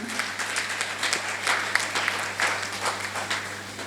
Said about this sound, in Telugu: లక్ష్మీ మేడంకి ఒకసారి గట్టిగా చప్పట్లు కొట్టుకుందాం